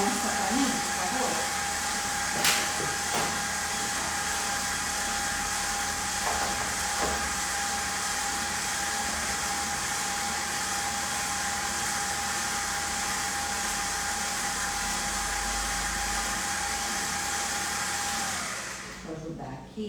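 An electric stand mixer runs steadily at home while a checkerboard cake batter is prepared, a continuous whirring motor drone holding for most of the stretch before cutting out near the end.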